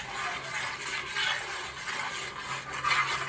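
Rice flour halwa mixture for a coconut flower lehyam stirred continuously in a pan, giving a dense, unbroken scraping and shuffling texture, close and fairly loud, with no voices.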